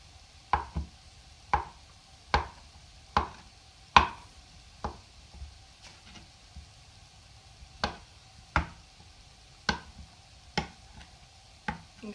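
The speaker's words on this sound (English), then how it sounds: "And now I can cut my potatoes. I'm slicing them." Knife slices through soft, mushy cooked potatoes on a cutting board for baked potato soup, about a dozen crisp, evenly spaced taps close up, quiet between strokes with no talking.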